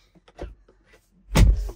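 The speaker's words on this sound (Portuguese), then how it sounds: "deixa eu encostar a porta aqui." A car door on a Tesla Model Y electric crossover is pulled shut from inside with a single soft thud, after a few faint handling clicks in a quiet cabin.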